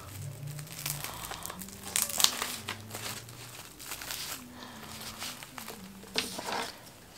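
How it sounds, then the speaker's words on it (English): Saran wrap packaging on a plant delivery is pulled open and crinkled by hand, giving close, irregular crackling and rustling bursts with a few sharper tearing crinkles, with no talking. "So I'm opening the saran wrap."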